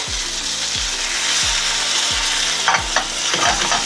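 Peas and pork sizzle in a hot pan while a utensil scrapes and stirs in a regular rhythm, with a few sharper clatters toward the end.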